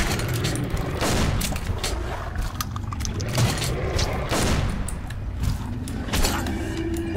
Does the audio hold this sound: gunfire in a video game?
yes